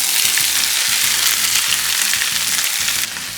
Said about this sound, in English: I'm actually gonna let this butter start to brown just a little bit